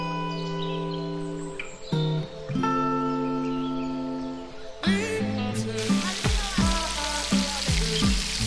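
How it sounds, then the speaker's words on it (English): Steady hissing sizzle of river fish frying in oil, with some clinks and scraping from stirring or moving pieces in the pan. "The fish is done frying"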